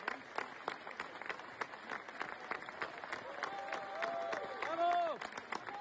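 Andrew Scheer's slow clapping comes through as a series of sharp, evenly spaced claps over a faint crowd murmur, with a chiming tone near the end.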